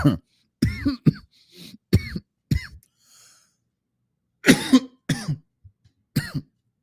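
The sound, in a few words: coughing into the microphone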